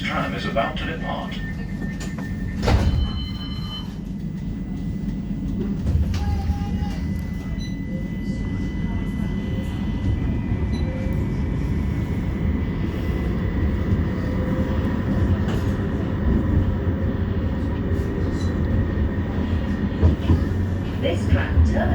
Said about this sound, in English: Please hold tight. This tram is about to depart.